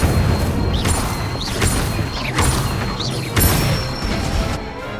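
Spell-casting in the Hogwarts Legacy video game: a repeated series of whooshing magical blasts and booms with rising chirps, roughly every second over a continuous rumbling background.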